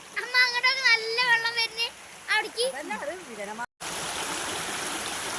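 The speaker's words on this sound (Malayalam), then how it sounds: "മഴേൻ്റെ ഊക്കൊണ്ട് ഞങ്ങളെ വീടിൻ്റെ മുന്നത്തെ തോടിൻ്റെ കോലപ്പെട്ടത് മറ്റേ പാൽച്ചായ കലക്കിയ പോലുണ്ട്" A rain-swollen, muddy stream runs in front of a house. After a person speaks, its steady rushing flow fills the remainder close by and evenly.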